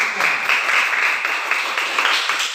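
A class of children claps together in steady applause, a dense close patter of hands that continues without pause.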